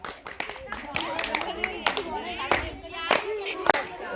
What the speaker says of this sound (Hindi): तो जोरदार तालियों के साथ स्वागत